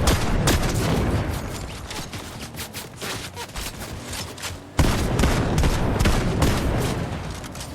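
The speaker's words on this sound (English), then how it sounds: "I'm just hearing a constant gunfire sound and there's been no stopping with it" Rapid, continuous bursts of gunfire from Fortnite, likely an audio glitch, crackle without pause, dense and loud throughout, like a heavy firefight.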